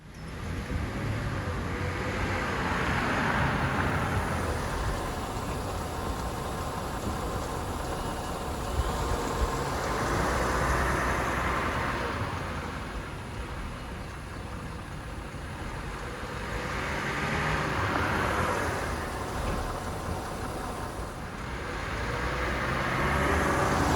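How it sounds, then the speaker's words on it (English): A car on a test drive after brake rotor replacement, its steady road and engine noise rolling continuously with slow swells in loudness, nearby and with no talking. "We're going to start the vehicle, go for a test drive, and show you the end result."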